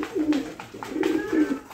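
Several pigeons coo in a room where breeding pairs of Lakha, Sirazi and Beauty Homer pigeons are kept, giving low repeated throaty calls that overlap continuously, close by, with no talking.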